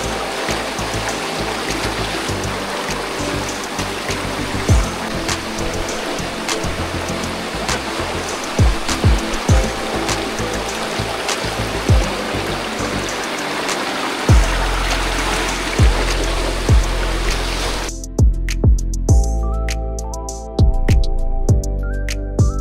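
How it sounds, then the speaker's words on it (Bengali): Strong rushing current of a hill stream swollen by sudden rain near a waterfall at Sitakunda–Mirsarai, a loud continuous roar of churning water with occasional knocks and splashes, close and steady, ending in a harsher, thinner rush. "খুবই অসম্ভব পানির স্রোত আসছে এবং ভয়ঙ্করভাবে পানির স্রোত বেড়ে যাচ্ছে।"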